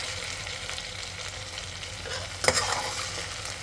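Onion, soybeans and rice frying together in a pan for masala rice, a steady close sizzle with stirring scrapes and one sharper clack of the spoon near the end.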